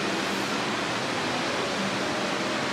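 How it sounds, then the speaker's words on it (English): Ocean surf at a Hawaiian resort beach, a steady broad wash of breaking waves and wind, loud and unbroken with no voices. "and there's the ocean"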